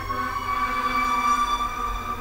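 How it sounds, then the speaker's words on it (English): Sirens wail outside, a steady, sustained tone that holds at a fairly even level for a couple of seconds with no voices over it. "Sirens are going off"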